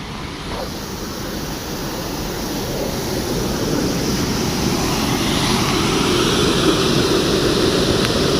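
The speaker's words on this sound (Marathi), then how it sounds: "यो पूल आहे धरणाचा आणि पाणी पण सोडलेलं आहे" Water released through the gates of Takali dam rushes below a bridge with a steady, loud roar that builds slightly and never lets up, with no voices.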